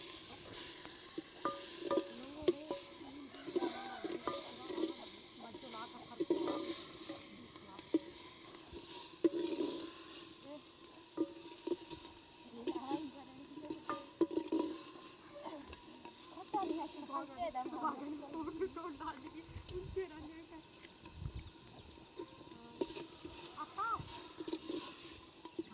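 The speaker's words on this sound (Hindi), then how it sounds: "तो ये पिसा हुआ प्याज आपने इसमें डाल दिया है" Ground onion frying in a pot over a fire in a forest tribal home kitchen, a steady sizzle with scraping stirs and clinks running throughout, and a voice talking now and then.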